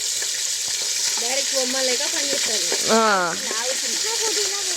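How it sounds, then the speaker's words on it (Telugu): Boiled mutton pieces fry in hot oil with a steady, close sizzle throughout. A voice talks over the frying. "సో ఇప్పుడు ఈ మటాన్ని ఆయిల్లో ఫ్రై చేయాలన్నమాట"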